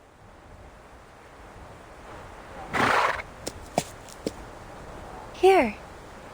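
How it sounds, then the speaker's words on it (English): In the video game Reverse: 1999, a horse lets out a loud whinny near a windmill, followed by a few sharp hoof clops and a second rising neigh, all over soft wind and surf ambience. "Sounds like a horse to me."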